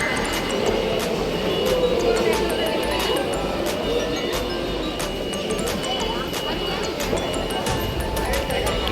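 Train noise at the Howrah underwater metro station in Kolkata: a continuous rumble with repeated sharp clicks and faint squeals from the wheels, near and steady, with a busy station background.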